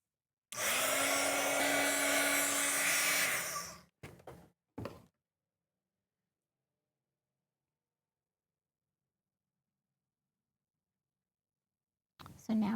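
A hair dryer blows steadily and loudly on an art journal page for about three seconds, then cuts off, followed by a few brief knocks and silence.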